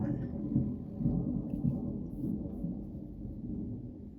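Thunder from a passing storm rumbles low and steady for several seconds, a distant rolling roar that swells and fades, with a faint voice speaking over it.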